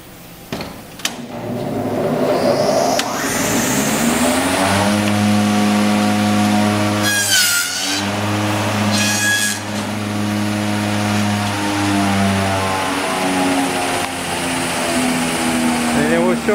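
A Holz-Her 1735 dovetail wood milling machine on 220-volt three-phase power spins up with a rising motor whine, then runs a test cut with a steady hum and brief louder bursts as the cutter bites into the wood.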